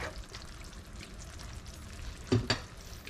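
A cooked liver dish is poured from a pan, giving a steady faint sizzle and stirring scrape, then two brief louder pouring thuds near the end, without speech.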